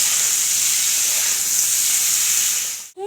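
Constant loud hiss of mango simmering and steaming in a pot for Bengali mango chutney, with salt added, unbroken at close range until a brief clunk at the end.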